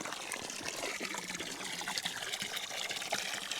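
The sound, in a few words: water trickling from a garden hose for a pig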